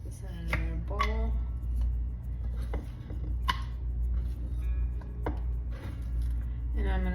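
A knife slices cabbage thin and lengthwise on a cutting board, giving a series of crisp irregular chops under a steady low hum, with occasional speech nearby.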